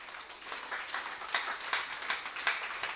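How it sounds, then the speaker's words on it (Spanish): Congregation applauding the women during a church sermon, a soft, fairly distant patter of many hands clapping steadily for a few seconds. "Aplauso a las mujeres, por favor."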